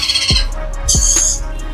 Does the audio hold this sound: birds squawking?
yes